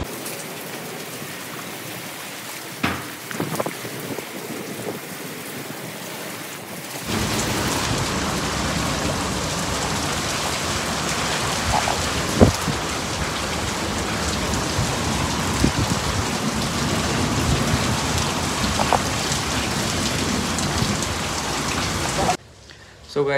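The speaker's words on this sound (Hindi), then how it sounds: "तो जैसे कि आपने देखा बारिश बहुत तेज पड़ रही है।" Heavy rain pours steadily outdoors, a dense continuous hiss of drops striking surfaces that starts after a quieter opening and persists loud and unbroken, with occasional louder splashes.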